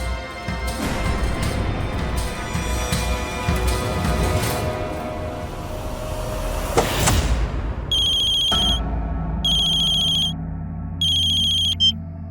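A telephone ringtone for an incoming call sounds in short repeated bursts near the end, after a loud stretch of dramatic music and a crash-like swell.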